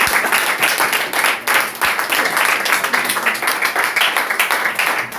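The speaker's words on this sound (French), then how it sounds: "Applaudissez encore pour le frère." A church congregation applauds for a brother after a sermon, loud, close clapping from many hands in an uneven, rippling rhythm that continues steadily throughout.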